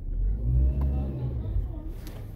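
A hybrid car's engine revved as the accelerator is pressed and released, a loud close swell of engine noise that rises and then eases back into a lower idle hum.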